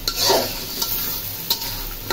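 Fish going into a spiced masala frying in a pan brings a close, steady sizzle, with a soft thump near the start and a few sharp scrapes and clinks from stirring.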